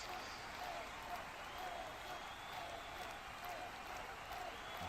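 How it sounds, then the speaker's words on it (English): A football stadium crowd at a Coventry Championship match against Wrexham roars and applauds steadily as a player comes out, a dense, sustained wash of cheering that stays loud throughout. "the big cheer whenever the big man comes out, when the main man comes out for this Coventry team"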